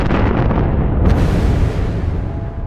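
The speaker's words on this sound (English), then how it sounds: "what followed was 2 rapid explosions." Explosions at the Chernobyl reactor, a deep, loud, sustained rumbling roar with a sharper burst about a second in, filling the whole clip and slowly fading at the end.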